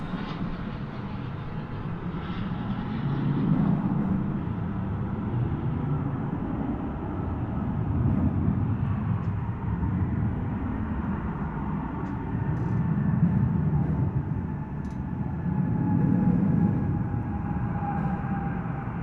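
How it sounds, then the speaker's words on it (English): A United Airlines Airbus A319 arriving from Denver lands at DFW after dark with a low, steady engine rumble that swells and fades several times over the long pass, alone, no voices. "Got a United flight coming in from Denver, an Airbus A319. Here it is now."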